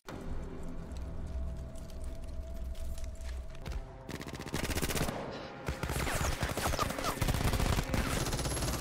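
Machine gun fire in a TV drama battle scene rattles in dense sustained bursts, growing louder and harsher partway through, with rapid repeated shots filling the whole stretch.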